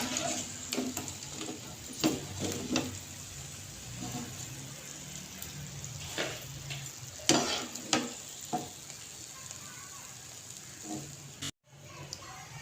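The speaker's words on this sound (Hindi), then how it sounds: "ये देखिए बहुत ज़बरदस्त ये फ्राई हो रही हैं" Shakarpara pieces fry in hot oil with a soft, continuous bubbling sizzle, punctuated by several sharp clinks and scrapes of a utensil against the pan, with one brief cut near the end.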